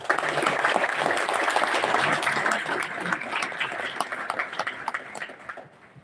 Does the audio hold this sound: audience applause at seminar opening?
yes